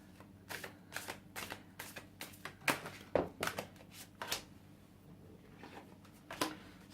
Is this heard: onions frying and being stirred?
no